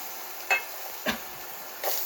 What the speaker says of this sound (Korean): 향신채 재료를 먼저 볶아서 기름에 배이게 하는 거예요